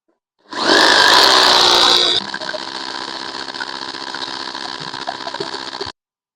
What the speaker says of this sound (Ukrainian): І свердлимо.